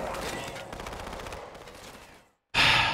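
Sustained rapid gunfire and battle noise in Halo 2 rattles loudly for about two seconds, cuts to brief silence, then a sharp loud burst of fire or explosion erupts.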